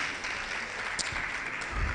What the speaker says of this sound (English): So please clap for yourself again.